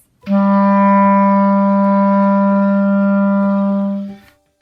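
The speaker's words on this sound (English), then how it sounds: "Low A should sound like this." A single low A on clarinet held steadily for about four seconds, clear and sustained, then released, with no talking.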